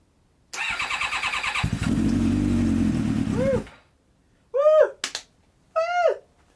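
A rebuilt Kawasaki ZX7R motorcycle engine cranks on the starter and catches briefly, followed by two short separate bursts as it tries to fire again, loud and close in a quiet workshop.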